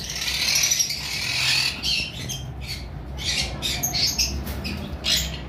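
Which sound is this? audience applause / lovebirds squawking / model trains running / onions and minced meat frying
lovebirds squawking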